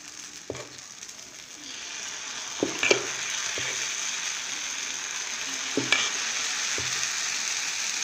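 Tomato pesarattu dosa batter sizzles steadily on a hot pan, a continuous frying hiss broken by a few soft scraping and tapping sounds of the spatula, close by with no talk.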